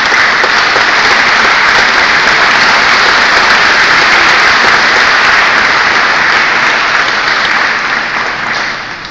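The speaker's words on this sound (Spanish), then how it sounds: "les pido un fuerte aplauso" Loud, dense applause from a large audience at a political party conference fills the space and holds steady throughout, thinning slightly toward the end.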